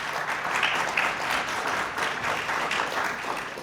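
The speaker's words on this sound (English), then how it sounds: "Let's have a round of applause for them." An audience claps for a student quiz team at a tournament, a short burst of steady applause at moderate volume with no voices over it.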